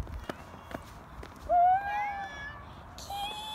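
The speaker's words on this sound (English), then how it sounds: "There's a cat, look" A cat meows on a street walk, one clear drawn-out meow followed by a softer second one, close by amid footsteps and light background noise.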